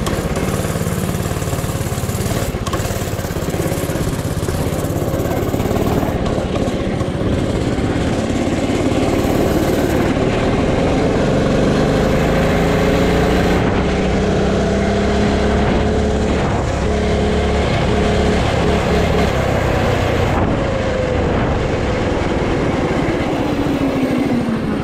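A mini drift quad engine runs loud and close for a test drive, its buzzing motor holding a steady drone and rising and falling as it revs and shifts through the neighborhood streets.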